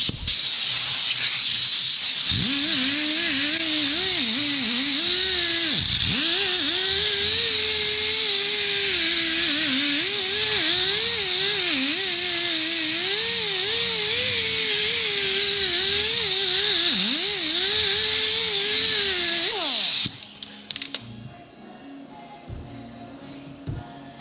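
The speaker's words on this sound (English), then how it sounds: "it'd be a good idea to probably get an electric or a cordless drill and put a buffing attachment on it" A cordless drill fitted with a buffing wheel polishing a car headlight, a loud, steady high whine that wavers as pressure changes for about twenty seconds, then stops abruptly and leaves quieter handling noises.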